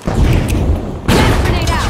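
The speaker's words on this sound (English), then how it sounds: "Frag grenade out!" Frag grenade blast in the shooter game THE FINALS, a loud, dense rumbling boom with debris and crackling layers, followed by a second burst of noise midway through.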